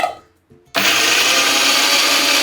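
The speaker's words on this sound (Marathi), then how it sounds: "हे बघा हे आलं आहे आता मी हे घेते वाटून" A mixer grinder starts up abruptly and roars loud and steady as it grinds ginger, a close, dense whir filling the rest of the moment after a brief quiet.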